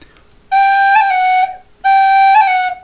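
Two sustained, bright tin whistle notes played close and loud, each with a quick grace-note flick of A above G midway through, separated by a short pause.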